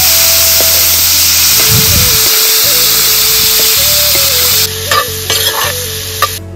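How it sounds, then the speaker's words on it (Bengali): Bamboo shoots fry and sizzle in a pan over a steady hiss, with scraping stirs and clinks from a utensil and a few sharper taps near the end. "এখন আমরা এগুলোর সাথে বাঁশকরোলটাও একসাথে একটু ভেজে নেব"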